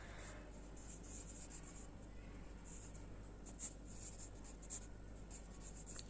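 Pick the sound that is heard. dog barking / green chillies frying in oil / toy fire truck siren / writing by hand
writing by hand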